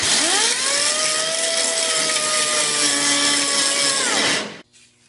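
An angle grinder grinds down a MIG weld during cab corner repair, a loud, continuous high whine with a steady pitch that winds down sharply near the end.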